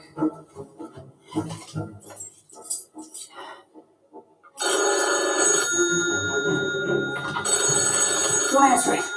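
A house telephone rings with sustained bright bell tones that start suddenly and continue loudly, following a stretch of people talking.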